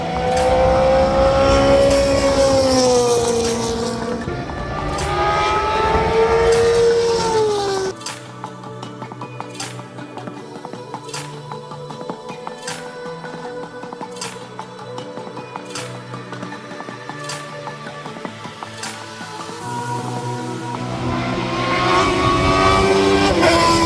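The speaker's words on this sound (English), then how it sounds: "based on the sounds here, the Formula 1s are out very soon" Formula 1 race cars at the Estoril Classics event in Portugal, heard from the main straight stands. Loud, high-pitched engine wails rise and fall as cars pass, with a quieter stretch of crowd ambience and distant engine sound in the middle.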